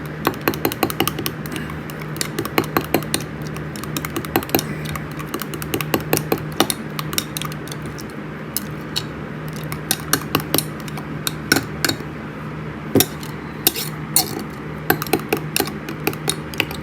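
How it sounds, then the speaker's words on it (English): A mixture being stirred in a pot, with a steady series of sharp clinks and taps from the utensil against the pot, repeating irregularly over a low background hum. "Stir this in."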